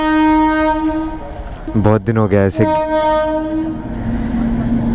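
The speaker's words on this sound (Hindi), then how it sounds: "तो ट्रेन आ रही है" An Indian train blasts its horn at a railway crossing gate near Kanpur, first with a long steady tone and then with a loud burst of overlapping pulsed honks before the tone returns. A person briefly talks under it.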